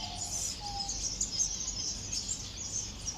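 Birds in an aviary reserve chirp steadily in a continuous high twitter of overlapping calls, moderately near, with no talking.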